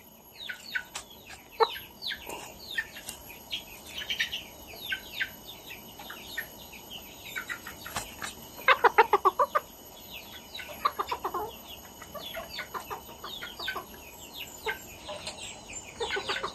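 A small chicken clucks during vaccination, with scattered short clucks and chirps and a flurry of louder calls midway, all against a quiet room with faint background birds.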